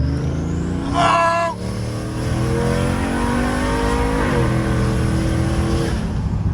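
A turbocharged Hemi truck on 35-inch tires launches hard, the engine revving up loudly with a whistling spool, then pulling away in a sustained rising roar that shifts partway through.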